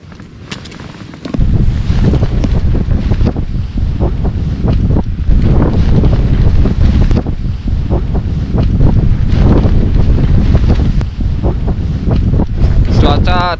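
Strong storm wind blowing hard outside a tent during a winter hike on Myeongjisan, South Korea, a loud steady roar with gusts buffeting the tent fabric and mic, continuous throughout after a quieter opening second.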